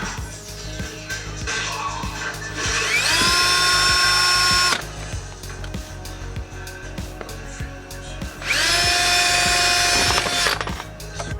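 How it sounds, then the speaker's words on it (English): A power drill bores holes in copper pots and a new compost bin, two loud sustained whining runs with rising pitch separated by quieter clicking and handling noise, close by. "I've just finished drilling holes in both of my copper pots and my new compost bin"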